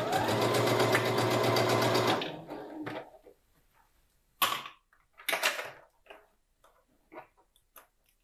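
A sewing machine runs a straight seam on a drawstring bag, a loud continuous whir for about two seconds before stopping, followed by quieter handling clicks and fabric shuffling.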